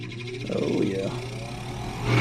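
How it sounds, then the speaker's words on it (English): Grinding inducer fan on a Westinghouse 90% gas furnace, a steady mechanical whir with a rough grinding rasp that swells and rises toward the end, heard up close. "I would say we definitely have an issue with our induction fan here grinding."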